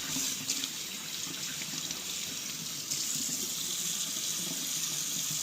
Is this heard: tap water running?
yes